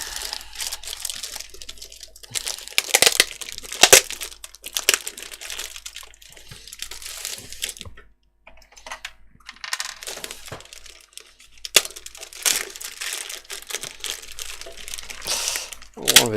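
A hot air soldering station, model 858D, is unpacked by hand: plastic and cardboard crinkle and rustle in bursts, with scattered sharp clicks and pauses of near silence between handling sounds.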